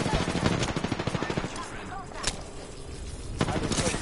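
Rapid automatic gunfire in a first-person shooter, dense bursts of sharp cracks in quick rhythm, close and loud, with a few heavier single shots near the end and a player's voice partly under the shooting.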